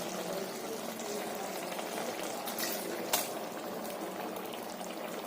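Tamarind curry bubbling in a pan, a soft steady simmering burble with a brief louder pop partway through.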